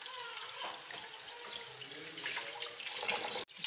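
Tap water pours steadily into a vessel as rice is washed in a village kitchen, a continuous splashing rush with light trickles, ending in a brief knock.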